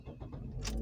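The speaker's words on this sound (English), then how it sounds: "it's a starter pushing the car on" A car's starter cranks the engine in a brief, close burst of low mechanical churning that rises toward the end.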